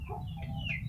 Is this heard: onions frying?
no